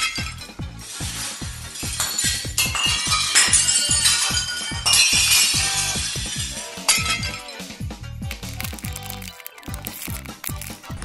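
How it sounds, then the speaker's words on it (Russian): A glass vase shatters, giving a long dense run of crashing, clinking and crunching shards, loud at first and then settling into scattered tinkles and scrapes. "Противный кот, зачем вазу разбил?"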